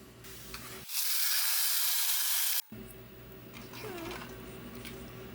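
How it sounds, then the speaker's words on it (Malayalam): Small onions drop into hot coconut oil and set off a loud, sudden hiss. It holds strongly for about two seconds, then settles into a quieter, steady sizzle. "ഇനി ഇതാ വെളിച്ചെണ്ണയിൽ ചെറിയ ഉള്ളി അത് വഴറ്റിയിടാം"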